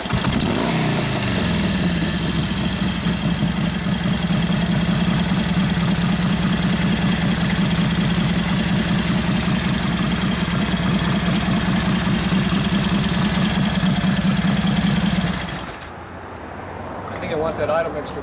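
A 1941 Harley-Davidson WL 45 flathead stroker engine held at full throttle gives a steady, loud, throbbing drone with a rough low pulse that cuts off abruptly near the end, leaving quieter background.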